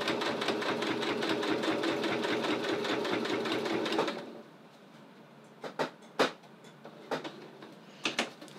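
A sewing machine runs fast while stitching a visible zipper seam, a rapid even chatter for about four seconds, then stops, followed by a few sharp clicks and knocks.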